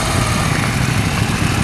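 A KTM 790 motorcycle engine runs steadily up close on a test ride, a continuous loud drone with no clear change in pitch and no talking.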